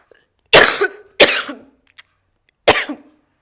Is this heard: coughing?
yes